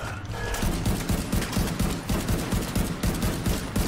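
Automatic gunfire in the video game The Division 2: rapid, continuous bursts of shots rattling steadily for several seconds, dense and fairly loud with mechanical clatter.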